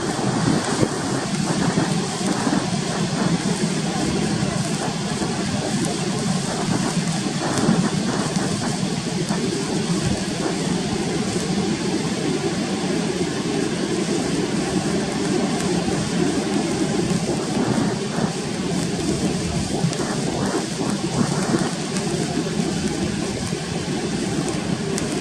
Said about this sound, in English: it's been raining pretty good for the last